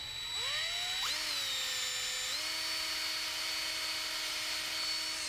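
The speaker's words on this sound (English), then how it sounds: "you want to be careful not to bend the drill bit when you're actually drilling" A power drill boring a pilot hole into wood while fixing a loose hose bib spigot, a steady high whine that rises in pitch as the motor spins up, then holds, close and alone.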